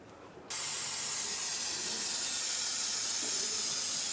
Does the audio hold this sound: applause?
no